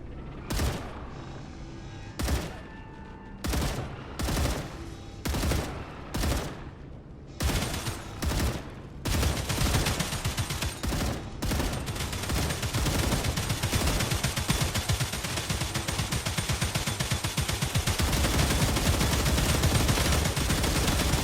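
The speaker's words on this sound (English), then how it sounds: "Fire at will. Changing mags." Gunfire from the video game StarRupture: several separate loud bursts at first, then continuous dense automatic fire that goes on for over ten seconds, close and heavy, with no voices.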